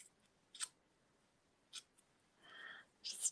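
Scissors snipping the yarn of a striped pom pom during trimming, a few separate crisp cuts spaced apart with a brief rustle of yarn between, close and clear in a quiet room with no talking.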